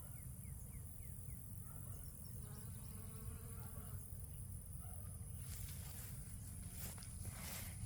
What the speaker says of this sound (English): Honeybee doing its job.